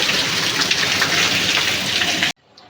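Heavy rain pours loudly and steadily, a dense hiss of drops, before cutting off suddenly into near silence.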